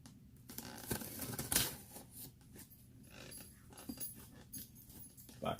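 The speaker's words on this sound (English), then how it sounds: "Let's go ahead and cut the box open." A cardboard shipping box is sliced open, with scraping, tearing and crinkling of tape and cardboard in uneven close bursts plus a sharp rip near the middle, no talking.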